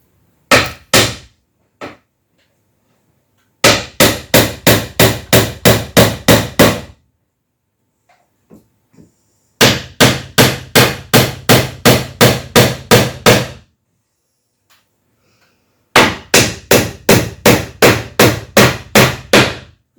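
Hammer strikes driving pre-drilled, waxed nails into wood during a kitchen renovation: four bursts of rapid, evenly spaced blows, each run of about eight to ten sharp knocks separated by short quiet gaps, close and loud with no talking.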